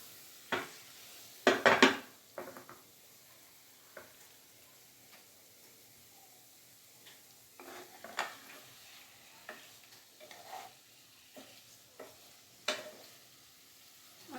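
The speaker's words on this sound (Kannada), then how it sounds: "ಒಂದು ಸ್ವಲ್ಪ ಫ್ರೈ ಆಗಲಿ." Paneer masala frying over a medium flame is stirred in a pan, with sparse scraping clacks and clinks over a faint, quiet sizzle.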